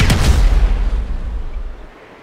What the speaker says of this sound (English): An explosion will tend to do that.